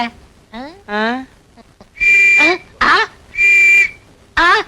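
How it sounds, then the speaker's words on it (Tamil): Shrill mouth-whistle blasts in a Tamil comedy scene: four loud, steady bursts alternating with squeaky, sliding vocal sounds. "அப்புறம் ஏன் விசில் ஊதுற?"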